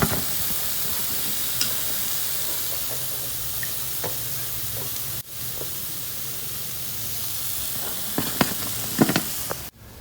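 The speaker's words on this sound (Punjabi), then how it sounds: "ਇਸੇ ਤਰ੍ਹਾਂ ਹੀ ਆਪਾਂ ਨੇ ਜਿਹੜੇ ਰਹਿੰਦੇ ਆ ਬਿਸਕੁਟ ਉਹ ਫਰਾਈ ਕਰ ਲਾਂਗੇ" Wheat-flour biscuits fry in hot oil in a pan, giving a steady, close hiss and sizzle. A few small clinks and bubbling pops come near the end.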